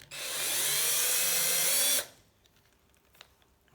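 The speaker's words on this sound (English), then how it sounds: "and I drill all the way through." A light handheld power drill whines loudly and steadily for about two seconds as it bores through a vintage bicycle quick release skewer, then stops abruptly, leaving quiet faint handling noises.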